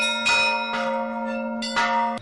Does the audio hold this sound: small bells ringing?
yes